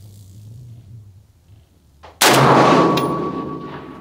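A single loud rifle shot from an FN SCAR 20S cracks out abruptly at an outdoor long-range practice, ringing and echoing into a long decaying tail after a quiet lead-in.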